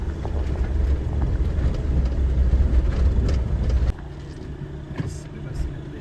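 An off-road-capable vehicle crawls over rugged, soft ground on Crown land in the Algonquin Highlands. A close, loud engine rumble with jolting noise runs steadily, then drops abruptly to a quieter idle after about four seconds.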